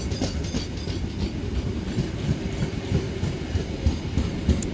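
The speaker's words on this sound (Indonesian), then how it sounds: "Kereta api Gumarang ini merupakan salah satu kereta terpanjang, kereta penumpang terpanjang yang beroperasi di Indonesia." The long Gumarang passenger train, hauling nine business-class cars, rolls through a busy Jakarta station at night with a steady rumble and rhythmic clickety-clack of wheels over rail joints, loud and close.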